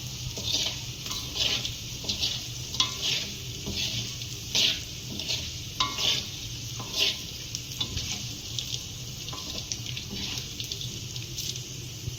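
Urad dal and fenugreek seeds, with mustard seeds, fry in hot oil with a continuous close sizzle and scattered sharp crackles and pops, heard alone without talk.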